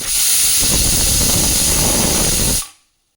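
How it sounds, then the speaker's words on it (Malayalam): A pressure cooker holding vegetables for kurma, cooking on a medium flame, vents steam in a loud, continuous close-up hiss that stops abruptly near the end. "ഇനി കുക്കർ അടച്ച് വെച്ച് മീഡിയം ഫ്ലെയിമിൽ നമുക്കിതൊന്ന് വേവിച്ചെടുക്കാം."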